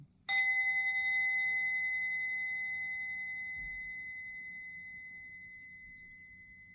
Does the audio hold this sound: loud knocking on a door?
no